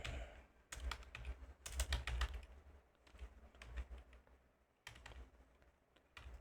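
Typing on a computer keyboard, bursts of quick close key clicks with short pauses between runs, quiet and alone without talk.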